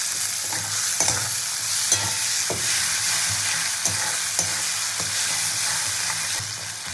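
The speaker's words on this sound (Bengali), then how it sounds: "তো সব মশলাগুলোকে খুব ভালো করে কষিয়ে নিতে হবে।" Spices and chopped tomato fry and get stirred in a pan for a Bengali bhorta, a continuous loud sizzle broken by regular scraping strokes of the spoon, with no voices.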